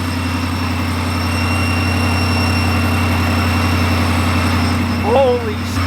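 A supercharged Ford Mustang 5.0 engine runs at a loud, steady idle with a low throbbing pulse and a faint whine, close by, and a brief voice near the end.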